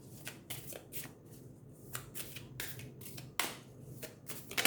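Tarot cards are shuffled by hand, a run of crisp riffling bursts and soft slaps repeating close up in a quiet room, with no talking.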